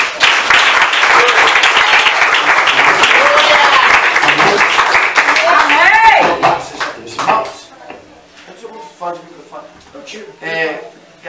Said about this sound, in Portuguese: Recebe, Senhor, as palmas